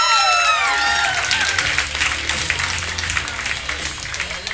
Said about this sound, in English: start clapping right now